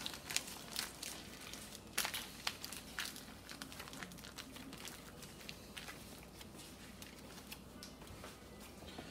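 Continuous crinkling and squishing of a plastic zip bag, with irregular crackles and rustles as deviled egg filling inside is kneaded and pressed, close up.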